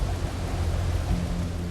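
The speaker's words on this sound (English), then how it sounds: "It was a terrible night for the stormy weather, strong wind, heavy rain." Dense, continuous roar of heavy rain and wind on a stormy typhoon night, with a low rumbling undertone suggesting thunder, loud and steady throughout.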